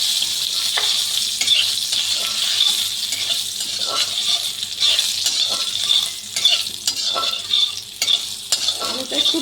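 Three or four long-cut potato pieces frying in oil for rohu fish tel-jhal, a steady close crackling sizzle broken by repeated scraping stirs of a spatula against the pan.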